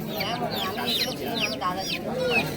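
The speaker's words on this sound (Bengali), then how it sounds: "এখানে এক ভাইয়ের খাঁচার মধ্যে কিছু ম্যাড্রাস পায়রা রয়েছে।" Madras pigeons caged at a busy rural market make soft repeated cooing and chirpy calls over a constant crowd murmur, with voices talking nearby.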